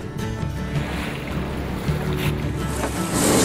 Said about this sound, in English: Shortest boat ride I ever had.